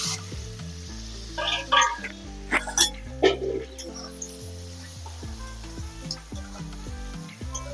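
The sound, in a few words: potatoes frying in mustard oil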